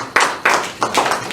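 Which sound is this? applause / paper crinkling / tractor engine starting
applause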